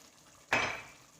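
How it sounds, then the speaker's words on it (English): Pallipalayam chicken stirred in a cooking pot, one clattering scrape of utensil against the pot that rings briefly and fades, close up in an otherwise quiet kitchen. "Just stir well."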